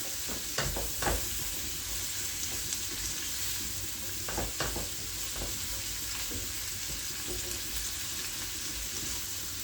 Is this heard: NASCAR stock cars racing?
no